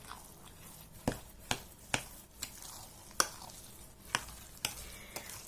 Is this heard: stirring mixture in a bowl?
yes